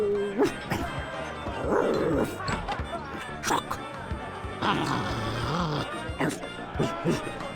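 A cartoonish dog in The Secret of Monkey Island gives several spoken, voice-acted barks in short separate bursts, close and clear, against quiet game ambience.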